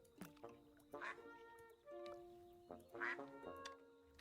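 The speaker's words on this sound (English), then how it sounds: "Also, we got ducks." Cartoon ducks quacking in the video game Tiny Glade, several distinct quacks in short bursts over a soft tonal ambient background, clear and close.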